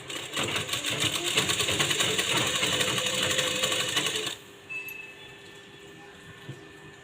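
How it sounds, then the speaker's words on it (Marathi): A sewing machine stitches piping onto a blouse, running fast and steady with a dense mechanical chatter for about four seconds. It then stops abruptly, leaving a quiet room with a few soft handling noises. "व्यवस्थित एकमेकावरती ठेवून आपल्याला शिलाई मारत यायचं आहे"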